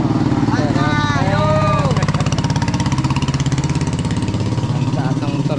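Motorcycle engine idling and puttering steadily while riding through flood water on a road, close and loud, a rhythmic throbbing drone with people talking over it throughout.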